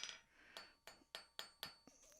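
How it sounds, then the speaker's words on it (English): Light metallic hammer taps on hot iron in a swage while forging a trammel hook, about six evenly spaced ringing strikes close by, with a faint high-pitched ring lingering between them. "just a light hammer, giving it a little light bevel"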